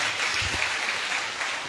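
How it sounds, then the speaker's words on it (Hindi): Congregation at a Hindi-language Christian church service clapping loudly for Jesus Christ, a brief burst of many hands applauding together at close range. "एक ताली बजाओ और एक बार यीशु मसीह के लिए जोर से।"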